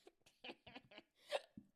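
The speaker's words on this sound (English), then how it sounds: "Oh, I got the hiccups." A person on a podcast hiccups several times in quick succession after hard laughter, short soft catches and gulps spaced irregularly, close and fairly quiet, with no clear talk.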